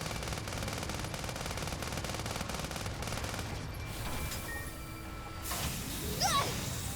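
Exploding laser fired in the video game Sand Land, rapid machine-gun-like bursts with a whooshing blast and crash near the end, fairly faint.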